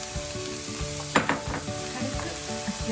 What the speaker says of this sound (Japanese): ニンニクが炒まったところで玉ねぎを入れ